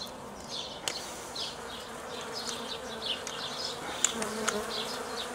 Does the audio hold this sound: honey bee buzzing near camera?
yes